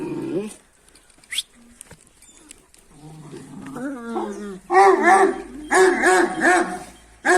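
A dog barks and yelps repeatedly, loud and close, in excited bursts after a quieter stretch of whining and whimpering.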